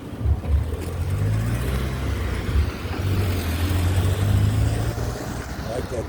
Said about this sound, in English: I like that truck, Nissan.